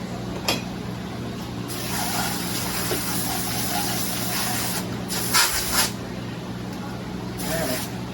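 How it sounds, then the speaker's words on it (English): Water sprays steadily to rinse out whole fish that have just been gutted and cleaned, a continuous close hiss with a few louder bursts as the stream shifts. "Rinse them out good."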